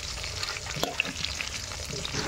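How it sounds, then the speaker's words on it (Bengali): Potatoes with salt and turmeric fry in a pan, giving a steady close sizzle broken by small crackles and a few scraping stirs. "আলুগুলো এখন আমি নুন হলুদ দিয়ে লাল লাল করে ভেজে তুলে রাখবো।"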